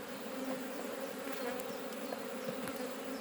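Honey bees buzz steadily around an opened hive, a dense, continuous drone that sounds close and fills the whole stretch, with no one talking.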